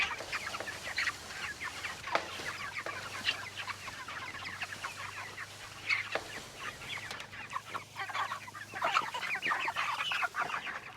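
A group of young farm chickens, two to five weeks old, clucking and peeping busily while being moved and fed on a small-scale farm, a dense chorus of overlapping calls close by with no talk.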